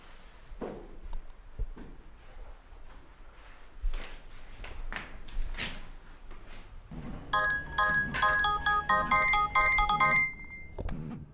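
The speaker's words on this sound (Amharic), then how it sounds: "ስልክ እየጠራ ነው፣ አይሰማህም?" A ringing telephone in an indoor scene from an old Amharic drama film. Its repeated electronic tone trills through the second half, loud and near, after quieter movement and footsteps.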